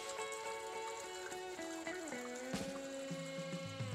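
A homemade backyard pool filter pump runs steadily with water flowing, giving a constant loud hum with shifting tonal whine and a continuous wash of splashing water, with no pauses.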